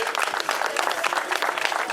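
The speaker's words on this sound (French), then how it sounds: "De nouveaux applaudissements, s'il vous plaît." Applause for a trophy presentation at a stage of the Kreiz Breizh Elites 2013 cycling race in Saint-Ploërdut, a steady crowd clapping that stays dense and even throughout, with no break.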